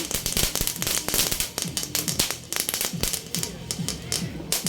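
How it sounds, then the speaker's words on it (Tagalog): New Year's firecrackers pop and crackle in rapid, dense bursts, sharp and fairly near, with a voice faintly audible underneath. "Na yung paputok"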